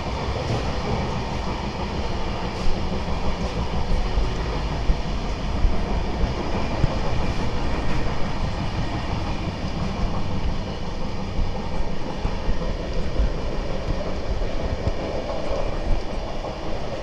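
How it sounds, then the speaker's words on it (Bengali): Rajdhani Express, a Kolkata-to-Delhi long-distance train, running on rails with a loud, steady rumble and rolling rail noise throughout, close and continuous with no talk. "আমরা যাচ্ছি রাজধানী এক্সপ্রেস।"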